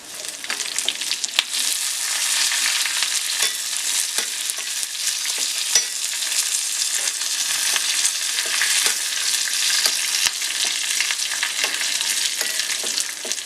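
Curry leaves, dried red chillies and shallots fry in hot oil for a Kerala-style masoor dal tempering, giving a loud, steady, close sizzle with occasional stirring scrapes and no voices.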